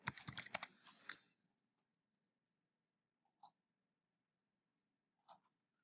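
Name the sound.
typing on a computer keyboard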